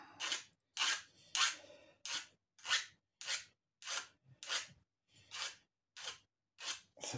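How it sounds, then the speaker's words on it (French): Hand filing on a metal part from a 1993 Honda CR 125R motorcycle, a close rasp repeated in about a dozen regular strokes with short silent gaps between them. "Je vais limer un peu ça."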